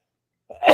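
A single sharp human sneeze, close and loud, preceded by a brief intake of breath, bursting out after near silence.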